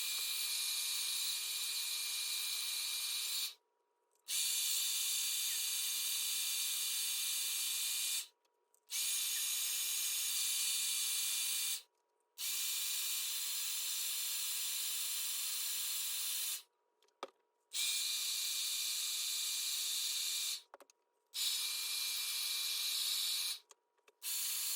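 A hair dryer fitted with a diffuser blows steadily on curly 2b/2c low-porosity hair, a loud continuous airy whoosh cut off briefly about five times as it switches off and back on.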